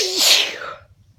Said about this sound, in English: And I can't stop sneezing all over myself.